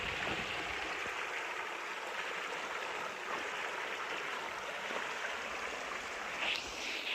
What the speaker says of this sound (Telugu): వాటర్ సౌండ్ చూడండి ఎంత మంచిగా వినపడుతుందో.